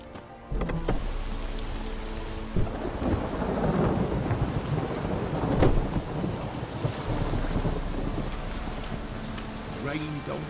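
Steady rain pours with deep rumbles of thunder rolling underneath in The Witcher 3, a heavy continuous storm wash with occasional louder cracks.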